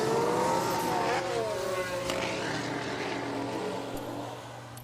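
A Formula 1 car engine in the F1 Manager 22 game drones as the car pulls into the pits, a steady whining note that gradually fades, with faint talk underneath.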